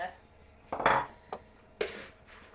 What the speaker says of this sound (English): So we'll give this a good old stir.